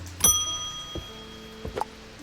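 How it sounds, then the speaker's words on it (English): A shop bell rings in the Strange Antiquities game, giving one clear ding with a long, ringing tail, followed by a few softer ticks and taps. No one speaks. "let's ring that bell"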